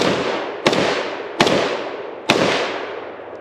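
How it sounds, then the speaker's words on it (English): Three loud, close gunshots from a SIG-Sauer MCX Spear 7.62 pistol, fired at an unhurried pace, each sharp crack trailed by a long echoing outdoor decay. "Alright, first shots out of the Spear."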